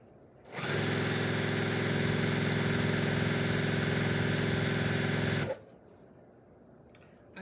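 A sewing machine stitches a quilt top in one steady, continuous run of rapid mechanical whirring, close and even in loudness, starting abruptly and stopping cleanly after about five seconds.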